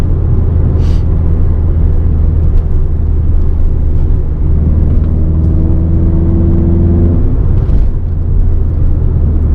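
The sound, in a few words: Renault Clio RS 200 engine with K-Tec induction kit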